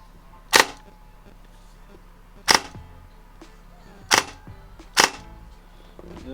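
An upgraded airsoft Krytac Kriss Vector fires two-round bursts, four sharp, snappy cracks spaced a couple of seconds apart, close and loud against a quiet indoor background.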